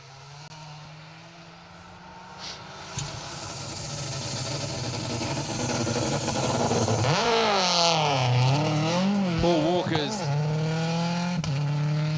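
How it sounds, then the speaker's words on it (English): A Subaru B13 rally car on a rally stage approaches with a rough, uneven engine note that grows louder, then revs up and down as it passes close by and draws away. "Doesn't sound particularly healthy, does it, that B13 Subaru?"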